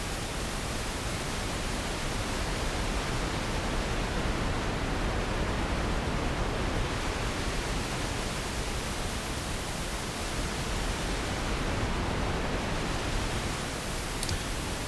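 Steady pink noise test signal, a constant broadband hiss heard alone at moderate level with no variation or talk.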